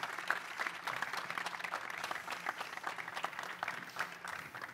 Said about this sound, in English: Please, a big round of applause for these guys